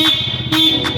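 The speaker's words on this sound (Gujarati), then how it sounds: "મારો તો હોર્ન" A car horn sounds inside the stone gateway of an old darbargadh fort near a Khodiyar Mata temple, sustained and loud, with the echo swelling in repeated bursts across the moment.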